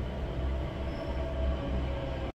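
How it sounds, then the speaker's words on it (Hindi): A Delhi Metro train rumbles at Rajiv Chowk station, with a steady, fairly loud roll of wheels and carriage noise and a faint high squeal, with no voices over it. "मेट्रो तो ये वाली थी"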